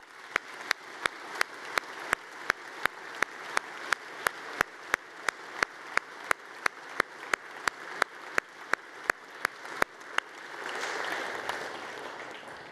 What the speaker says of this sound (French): Et j'aimerais qu'on les applaudisse chaleureusement.